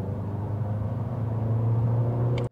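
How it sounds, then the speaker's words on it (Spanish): A Mazda Skyactiv X car accelerates in third gear from 60 to 80 km/h, giving a steady, loud engine drone and road rumble that climbs gently in pitch and then cuts off abruptly near the end. "Aceleramos en tercera desde 60 a 80 km por hora"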